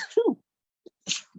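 A brief, sharp sneeze close up, preceded by a short vocal sound and followed by a soft breath.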